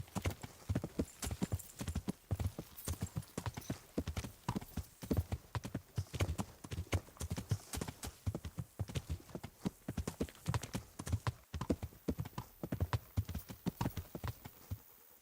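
Steady clip-clop of horse hooves trotting at an even rhythm in a video game, close and continuous throughout, with an occasional faint whinny in the mix.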